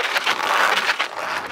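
A custom bicycle ridden with an unseated, unbeaded back tire gives a continuous rough, scraping rumble. The rhythmic swells come from the wheel turning, close and steady for a second and a half, with no talk.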